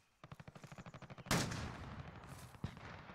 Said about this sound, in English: He's sniping us.